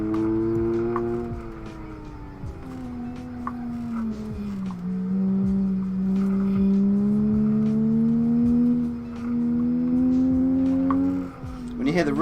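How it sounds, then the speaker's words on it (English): A nitrous-equipped race car on the Nürburgring runs at high revs, a steady droning engine note that climbs and swells louder midway, then dips briefly near the end, with a voice talking over it. "You hear the rev suddenly get louder, that's when the nitrous is kicking in."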